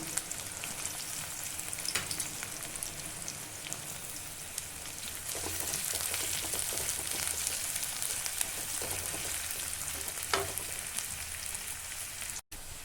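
Onion and garlic hit hot oil in a pan and fry with a dense, steady crackling sizzle that swells slightly partway through, close and continuous with no talking.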